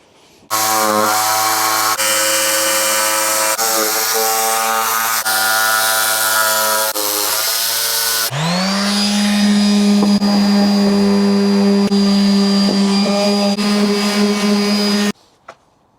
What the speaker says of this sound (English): Now I've just got to get my jigsaw started in there and then go between each hole.